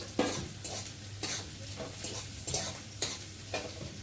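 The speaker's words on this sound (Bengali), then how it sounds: "আর পেঁয়াজটা এদিকে ভাজা ভাজা হচ্ছে, একটু ব্রাউন কালার মতো এসে গেছে" Sliced onion fries to brown in a pan, a soft steady sizzle broken by regular scraping stirs of a utensil against the pan about every half second, close and fairly quiet.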